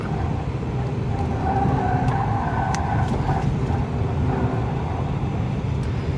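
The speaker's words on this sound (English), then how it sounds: "Can we get some wheel spin? Maybe spin it out." An Acura MDX Hybrid with 321 horsepower, in Sport Plus mode, spins its wheels through a corner, a loud continuous rush of tire and road roar with sharp squeals poking through, heard steadily from inside the vehicle.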